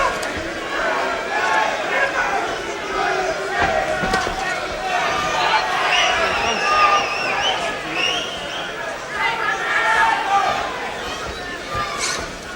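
Boxing crowd at a WBO middleweight title fight between Chris Eubank and Dan Sherry breaks into a round of applause and chatter that fills the hall at steady loudness. A commentator talks over it throughout.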